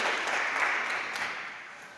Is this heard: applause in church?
yes